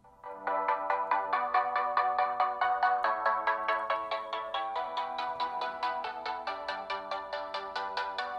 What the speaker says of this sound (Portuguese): Vamos puxar aqui um NCS para a gente testar o áudio do smartphone.